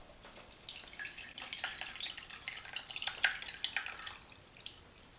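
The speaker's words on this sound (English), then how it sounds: "I'm gonna pour the elderberry mixture over the top of the honey" Elderberry mixture poured through a metal strainer into a bowl of honey, a continuous soft splashing trickle with scattered drips, faint and close, no voices.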